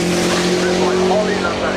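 A loud, continuous rally car engine drone with a steady tone, running close by without pause for the whole moment at the Goodwood Festival of Speed; a voice is faintly present underneath.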